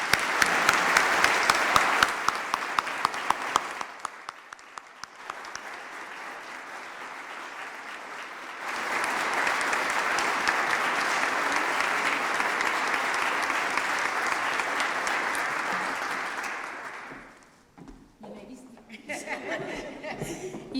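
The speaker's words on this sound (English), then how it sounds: "Let's give another round of applause to our Unsung Sheroes." Audience applause for honorees at an MLK Day event, a long sustained round of clapping with some chuckles and talk mixed in, dipping briefly before swelling again and then fading into scattered claps.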